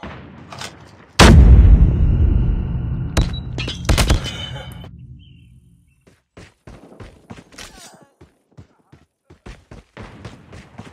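Loud grenade explosion in Call of Duty Mobile, a heavy booming blast with a rumbling tail, followed by several sharp gunshots and clattering impacts that fade into scattered lighter clicks.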